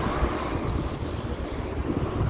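Wind blowing outdoors as a steady, close rush of gusty noise buffeting the microphone, with no other sounds standing out.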